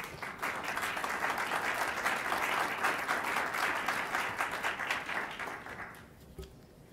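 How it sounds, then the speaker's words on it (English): An audience at an Omaha Public Schools board of education meeting applauds award-winning teachers with dense, sustained clapping that holds steady and then fades out near the end. "could we give a round of applause for the teachers that won the award?"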